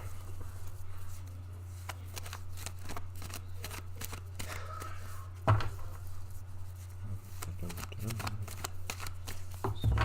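Tarot cards being shuffled for a reading, a steady run of papery riffles and soft slaps lasting about ten seconds, close and fairly quiet over a low constant hum, with no voices.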